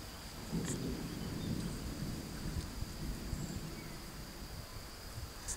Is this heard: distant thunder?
yes